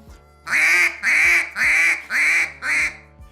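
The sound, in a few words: low-toned duck call imitating a coarse duck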